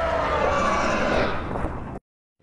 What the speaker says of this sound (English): That's a massive dinosaur.